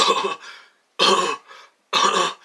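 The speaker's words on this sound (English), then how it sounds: "Everyone has a cough on these calls" Three sharp, close coughs in a steady rhythm, each a harsh burst followed by a short rasping tail, with silence between them.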